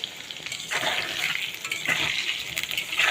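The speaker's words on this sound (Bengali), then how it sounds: "আলুগুলোকে ভালো করে ভেজে নেব।" Salted potato pieces frying in a pan: a steady, fairly loud crackling sizzle with repeated stirring and scraping strokes throughout, and no voices.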